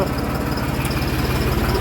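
A farm tractor idles close by in the rain with a steady, rapid low throb under a constant broadband hiss.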